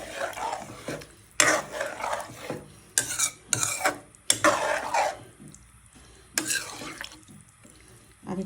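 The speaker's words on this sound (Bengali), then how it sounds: "পানি দিয়ে দিলাম" Water goes into a pan of sizzling mixed-vegetable curry with suri shutki dried fish, as bursts of hissing, splashing and stirring come in uneven waves close by.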